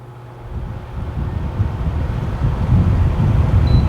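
A Vornado fan running, a steady broadband whoosh of moving air that swells slightly louder after the first half second and holds evenly.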